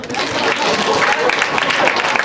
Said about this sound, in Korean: 오, 야, 박수.